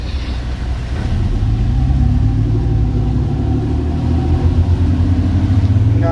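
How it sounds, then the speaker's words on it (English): Twin engines on a 42 Roberson boat throttling up during a water test, a loud close low rumble that builds and grows rougher as power comes on, with no voices over it. "Okay, we're going to throttle up."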